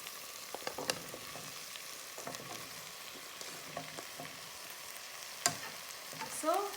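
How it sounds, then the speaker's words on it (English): Potatoes and cauliflower fry in a pan for aloo gobi with a steady low sizzle, broken by scattered scraping taps as a utensil stirs them, with one louder clack near the end. "And now my vegetable is going in."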